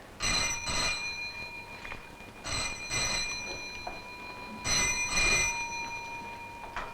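An old-style 1960s telephone bell rings in three bursts, each a double ring, with short pauses between them and no voices.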